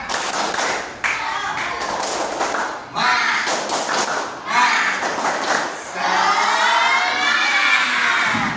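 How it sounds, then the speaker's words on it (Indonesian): A standing class performs a rhythmic spirit clap, bursts of unison clapping in patterned groups with children shouting along, loud and close, ending in a cheer. "Dengan tepuk semangat saja ya."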